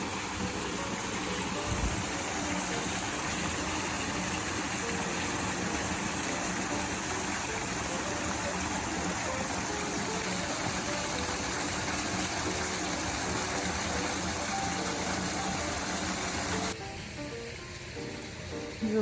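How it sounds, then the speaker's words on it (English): Small garden waterfall spilling into a goldfish pond at a castle estate, a steady broadband rush of falling water heard close and continuous, with no talk over it. "a little waterfall."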